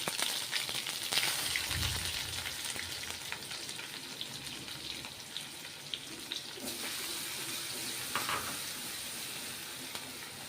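Onions frying in a pan with ginger-garlic paste while cooking a whole moong and spinach dish, a steady close sizzle throughout with brief stirring scrapes and a low clunk near the start.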